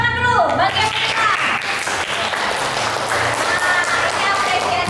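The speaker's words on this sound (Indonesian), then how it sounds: "Ayo semuanya tepuk tangan dulu bagi yang bisa" Junior high school students applaud classmates standing for election, a steady wash of clapping heard under a voice speaking over the room.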